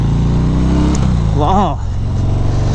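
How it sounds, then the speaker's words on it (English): A 2019 Harley-Davidson FXDR 114 idles with a deep, loud exhaust rumble and gives one quick rev in the middle, while a person lets out a short exclamation. "The sound on this exhaust, I mean, I know it looks different, but the sound also sounds really nice"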